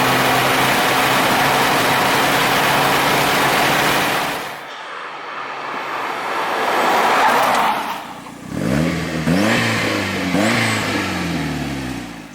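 A Ford Escort RS Cosworth driving on the road, its engine droning steadily, dropping briefly as it eases off, then rising again with gear-change revs, heard up close with no talking.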